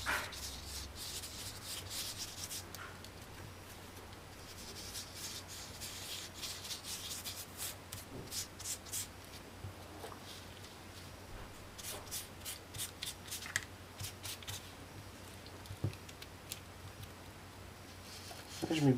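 A brush loaded with product rubs very lightly across textured scrapbooking paper for a faux-leather effect, giving soft, repeated scratchy strokes at close range over a low steady hum.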